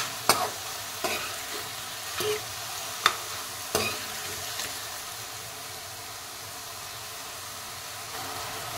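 A spoon stirring sponge gourd pickle in a pan with ghee, a few sharp scrapes and clinks over a soft steady sizzle, the stirring strokes spaced out early and then fading into the low hiss.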